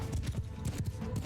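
Horse hooves galloping in the medieval battle game Mount & Blade II: Bannerlord, a quick rhythmic clip-clop of several beats at moderate distance, fairly quiet beneath the battle ambience.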